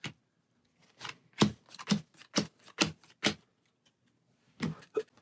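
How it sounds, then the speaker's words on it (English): Game cards from a discard pile being riffled and shuffled by hand at close range, quiet and crisp. About ten brisk riffles come in a steady rhythm, then a short pause and two more. "with an empty stack, we'll shuffle our discard pile"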